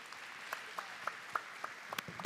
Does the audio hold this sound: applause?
yes